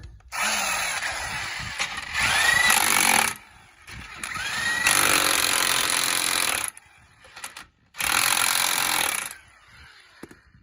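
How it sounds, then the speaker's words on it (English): A battery-powered impact wrench tightens lug nuts on a 2013 Dodge Avenger's wheel, firing in four loud, close bursts of rattling hammering separated by short pauses. "Impact wrenches are really nice. I even have them battery powered."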